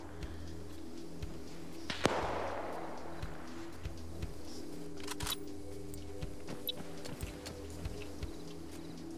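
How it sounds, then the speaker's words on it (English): A couple of sharp distant gunshots crack out in a WW2 multiplayer shooter, British versus German teams, one around the two-second mark and another a few seconds later, set over a steady low ambient hum. "Oh, more shots going out."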